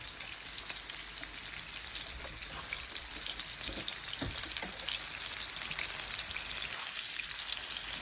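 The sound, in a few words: salmon sauteing in a pan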